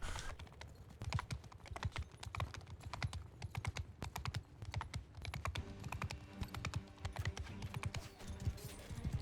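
Horse hooves clatter in a video game as a mounted character rides, a fast and steady stream of close clip-clopping thuds that runs the whole time, with no speech over it.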